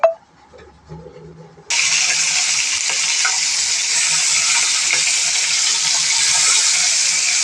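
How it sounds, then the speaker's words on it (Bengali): Four or five large tiger prawns slide into hot mustard oil in a wok, setting off an abrupt, loud sizzle that stays strong and even after a quiet start with faint kitchen clatter. "চিংড়ি মাছগুলো আমি দিয়ে দিলাম"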